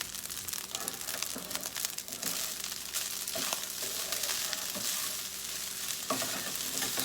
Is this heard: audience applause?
no